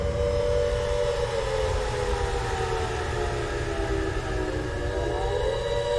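A droning air-raid siren wails steadily in the Silent Hill: Origins video game, long sustained tones gliding slightly in pitch over a heavy low rumble, loud and unbroken throughout.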